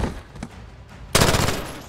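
Gunfire in the Modern Warfare campaign: a quieter stretch of scattered shots, then a sudden loud burst of rapid automatic fire that keeps rattling close up to the end, with no talk.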